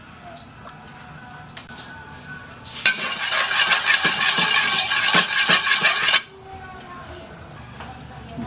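Cooking oil hits a hot wok for a Filipino sinigang with milkfish and shrimp, bursting into a loud, steady sizzle that lasts about three seconds before cutting off, with faint kitchen clatter before and after.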